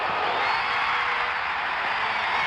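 A steady crowd roar fills a basketball arena at an NBA Finals game between the Phoenix Suns and Boston Celtics, a dense, continuous wash of voices with no single voice standing out.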